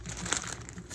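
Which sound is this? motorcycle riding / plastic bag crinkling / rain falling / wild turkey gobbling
plastic bag crinkling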